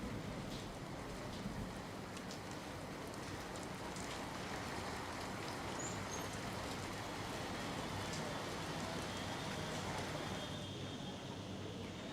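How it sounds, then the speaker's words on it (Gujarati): Heavy rain pours down in Palitana in Bhavnagar district as a dense, steady hiss that does not let up, with no voices over it. "પાલીતાણામાં ભારે વરસાદી માહોલ વચ્ચે આ દ્રશ્યો સામે આવ્યા છે"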